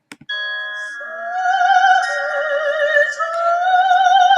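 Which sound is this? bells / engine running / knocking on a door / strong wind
bells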